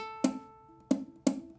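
Three quick strums of a ukulele chord in which the second string is muted by a fretting finger, each strum sharp and close, then decaying quickly.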